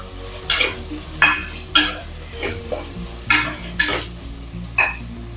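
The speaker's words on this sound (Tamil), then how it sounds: "தக்காளி நல்லா வதங்கணும்" Tomatoes sauté with rock salt in a pan for chicken biryani, and a spoon scrapes and knocks against the metal in about seven regular strokes over a faint, low sizzle.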